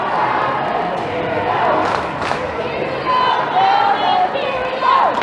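Roaring, cheering crowd in an ice rink during a girls' high school hockey Division 2 playoff game between Falmouth and Dennis-Yarmouth, a loud, continuous swell of yelling and voices with rising shouts, and a commentator talking over it.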